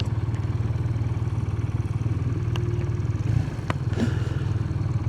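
A 2025 BMW R12 GS motorcycle pulling away, its engine thrumming in a steady, rapid pulsing beat close by, with a brief clatter partway through before the throb carries on.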